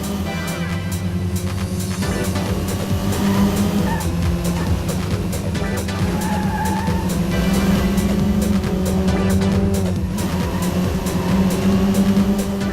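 Engine racing in the Sega Dreamcast game Metropolis Street Racer, a loud continuous revving drone with shifting pitch and rhythmic clicks over it, steady and close throughout with no talking.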